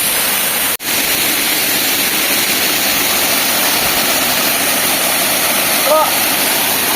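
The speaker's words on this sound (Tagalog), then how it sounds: "So guys, we're here at Batlag Falls." Batlag Falls waterfall in Tanay, Rizal, pouring as a loud, steady broadband roar close by that fills the whole clip, with a faint voice briefly under it.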